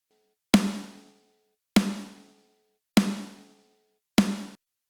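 A woody, in-your-face snare drum sample for a rock mix strikes four times alone at an even, unhurried pace. Each hit is sharp and full-bodied with a short decaying tail, close and clear, with no voices.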